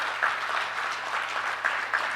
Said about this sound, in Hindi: तो इन सब के लिए आप लोग तालियां बजाइए एक बार.